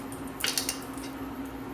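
A lid taken from another pot set down over a karahi wok in a home kitchen, a brief clatter of metal on metal lasting a fraction of a second, followed by a steady low hum.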